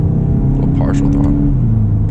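2024 Volkswagen GTI with DCT gearbox at half throttle in third gear: a low, steady engine drone with a slight pitch shift, heard from inside the car as someone talks over it.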